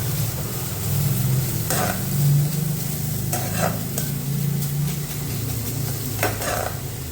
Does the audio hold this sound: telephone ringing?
no